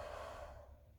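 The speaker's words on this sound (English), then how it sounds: "Big breath in" A deep breath drawn in during a gentle yoga flow, a soft airy inhale that is close and steady, then fades out after about half a second, with no talking.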